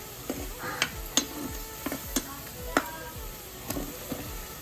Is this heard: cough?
no